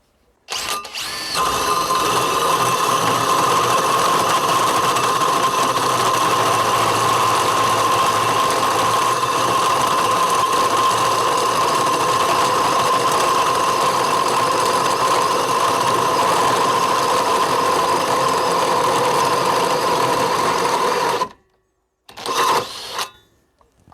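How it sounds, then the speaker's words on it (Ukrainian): A cordless drill fitted with an 82 mm Dnipro-M Falcon hole saw bores steadily at second speed, a loud continuous whining drone for about twenty seconds that cuts off abruptly, followed by a brief restart. "Беремо 82 коронку, вмикаємо другу швидкість і без монтажу і прискорення починаємо працювати."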